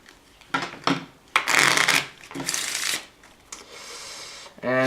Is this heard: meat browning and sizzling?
no